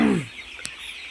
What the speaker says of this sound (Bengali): আজকে আমার মুরগিটার বয়স প্রায় 13 দিন হলো।